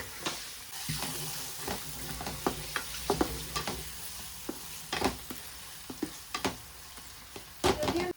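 Tempering for dal sizzles steadily in a hot pan, a continuous close frying hiss broken by repeated sharp scrapes and taps of a stirring spoon, no voices.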